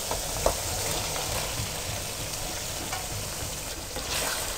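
Pre-fried chicken pieces dropped into oil-glossed masala and frying, giving a steady close broadband sizzle with a brief clatter near the start and no talking.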